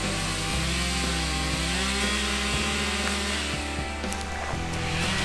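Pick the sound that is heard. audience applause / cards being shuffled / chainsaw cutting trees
chainsaw cutting trees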